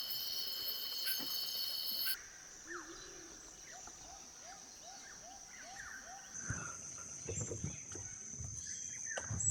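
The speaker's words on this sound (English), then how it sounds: "It's just the frogs and cicadas going now." Frogs and cicadas call at night in Indonesia, with a high steady insect drone over a repeating series of short chirping frog calls, faint and ambient, with a quiet voice speaking in places.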